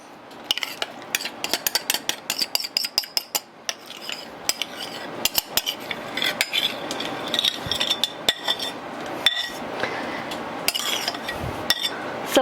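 Caramel pieces being mixed into dry ingredients for pumpkin apple streusel muffins, heard as a rapid run of sharp spoon-against-bowl clinks and scrapes, denser at first and then more scattered, close and without talk.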